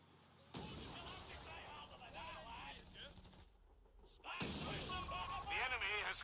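A Vickers machine gun fires in a war video game, sustained rattling shots amid battle noise and game voice lines, dropping briefly before returning louder.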